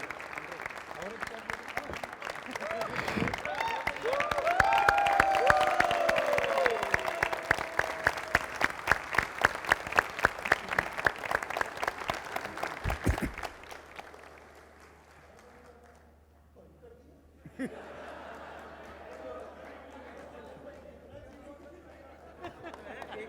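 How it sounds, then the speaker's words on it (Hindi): An audience stands and claps at the end of a speaking event, a dense run of applause with some cheering that builds and holds for several seconds, then stops abruptly, leaving quiet room noise and faint chatter. "खड़े हो गए, ताली बजा दिया"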